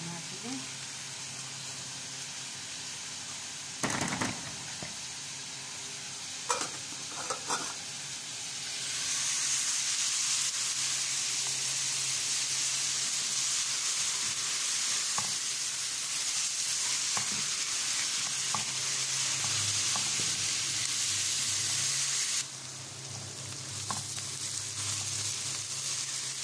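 Fava beans sautéing with rice in a pan, heard as a loud, steady sizzle and hiss that swells midway, with a few stirring clatters and scrapes.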